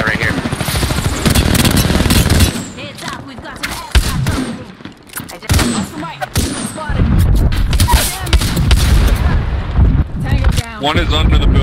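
Rapid in-game gunfire from Apex Legends crackles in dense bursts throughout, loud and close, with players talking over the shooting and bursts tapering mid-clip before resuming.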